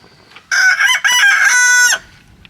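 A Leghorn rooster crows loud and close, one long call with a brief break partway through, and some quieter hen sounds are faintly audible around it.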